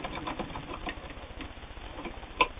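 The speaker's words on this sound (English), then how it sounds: "and it sews a real nice, tidy stitch" A hand-cranked Singer 99 sewing machine stitches with a soft, rapid rhythmic ticking and whirring, steady and close, ending with a small click.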